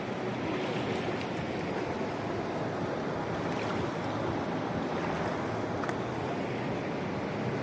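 River water rushes steadily along the bank of the Koksu river in the mountains, a dense continuous broadband wash that stays even and fairly close throughout, with no voices.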